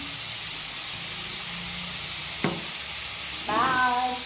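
A kitchen pressure cooker full of rice releases steam in a loud, steady hiss that runs the whole time, with a couple of brief tonal chirps rising above it near the end.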